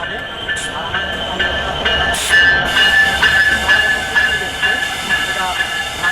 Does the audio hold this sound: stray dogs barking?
no